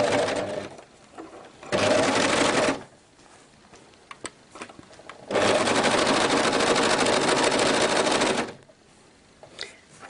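A Pfaff Hobbylock 2.5 four-thread overlock serger sews stretchy elastic fabric in two loud, close bursts of rapid stitching, each a few seconds long, separated by quieter gaps with small handling clicks.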